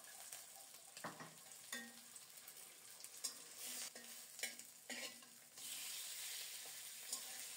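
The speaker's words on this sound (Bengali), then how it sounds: "ডিম ভাজা হয়ে গেছে, চুলাটা অফ করে দেব।" An egg sizzles steadily as it fries in a pan with ground black pepper, the frying hiss broken by several sharp scraping stirs, close and fairly quiet, with no talking.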